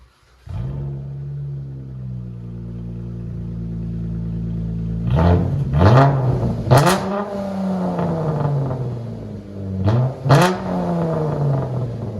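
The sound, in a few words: 2015 Chrysler 300S engine revving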